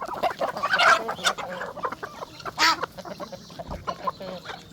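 Village chickens on a chicken farm cluck and squawk close by in a busy, uneven stream of short calls, with a few louder squawks standing out from the flock.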